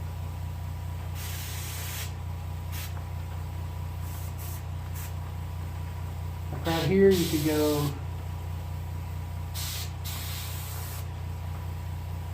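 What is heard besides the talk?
spray painting a white crappie for taxidermy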